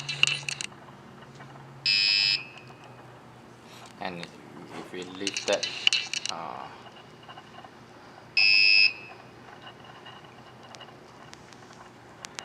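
A buzzer in a student IoT temperature-monitoring project sounds as a fire alarm, giving two short, loud, steady high-pitched tones several seconds apart, with a person speaking quietly and some clatter between them.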